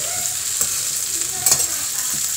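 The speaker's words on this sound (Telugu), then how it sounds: "ఇలా ముక్కలన్నీ బాగా ఫ్రై అయ్యాక" Okra pieces fry in a village-style pan while being stirred, a continuous bright sizzle with two soft scraping strokes of the spoon standing out.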